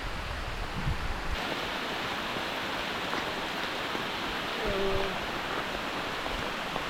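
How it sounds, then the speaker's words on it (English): Rain falling on the Appalachian Trail makes a steady, faint, even hiss that continues throughout with no distinct drops or voices. "Oh no, it's raining."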